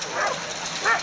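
Sled dogs racing toward the finish line at a Fairbanks race give a couple of short yips and whimpers, faint and mid-distance, over a steady outdoor background.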